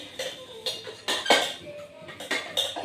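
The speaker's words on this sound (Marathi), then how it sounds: "भांडी घासायचं बघा" Dishes being scrubbed in a bathroom: repeated clinks and clatters of metal pots and utensils in irregular bursts, close by, with water splashing in between.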